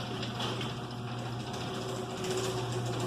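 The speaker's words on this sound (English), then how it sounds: "Making a little noise, that clickety-click sound." Chamberlain LiftMaster garage door opener running after a gear replacement, a steady mechanical whir with a faint rapid clicking rattle, heard continuously at a moderate distance.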